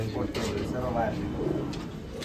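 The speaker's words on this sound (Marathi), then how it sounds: "हे सर्व इम्पोर्ट केलेले कबूतर आहे मित्रांनो" Pigeons imported from the UAE coo softly in low, rolling phrases close by, with a voice speaking over and between the calls.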